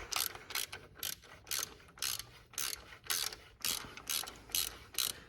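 Ratchet wrench loosening the 10mm coil pack bolts on a Nissan 370Z engine, a close, crisp series of clicking pawl bursts repeating in a steady back-and-forth rhythm, about a dozen strokes with no talking.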